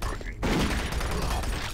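A sudden loud burst of gunfire erupts after a brief quieter moment, dense and sustained, like rapid shooting in the video game Doom 3.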